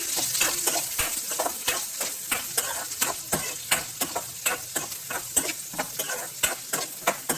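Onions frying in hot oil with mustard seeds, curry leaves, garlic and chillies, a steady sizzle broken by a fast, continuous run of spatula scrapes against the pan, close up.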